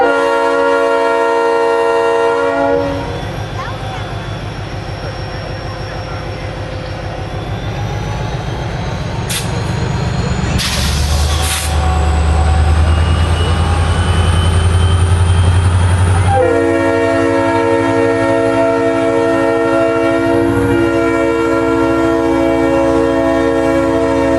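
Diesel locomotive 92 sounds its loud horn up close during a parade, a long multi-tone blast that breaks off for a rumbling, clattering pass-by before the horn returns and holds steady to the end.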